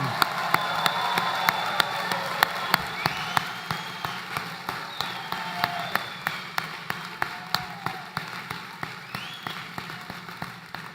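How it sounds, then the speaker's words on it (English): Round of applause for graduates at an economics departmental ceremony, a crowd clapping steadily while one close, sharp clapper beats a regular rhythm on top, continuing evenly for about eleven seconds. "Let's have another round of applause for all of our graduates this afternoon"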